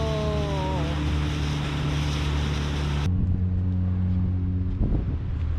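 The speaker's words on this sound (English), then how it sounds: "That's the sound of a big boat" A big ship's engines rumbling low and steady in Malta, heard from a sailing catamaran, with a deep, constant drone over wind noise and a brief higher tone fading early.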